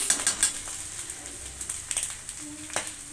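Vegetable fried rice with vinegar being stirred and mixed in a pan, giving brief clattering scrapes and clinks of a spoon against metal over a faint sizzle, close and fairly crisp.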